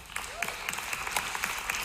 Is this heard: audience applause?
yes